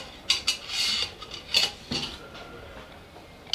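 Metal stove parts and tent stakes from an Ikea hobo stove kit, a Pangea burner among them, are packed into a cook pot, giving several light metallic clinks and scrapes close by with short pauses between.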